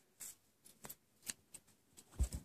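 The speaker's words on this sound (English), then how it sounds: "we're going to take our scissors and we're going to fasten off." A few quick, crisp snips of scissors cutting yarn, spaced irregularly and fairly quiet, ending with two closer, louder cuts; no talking.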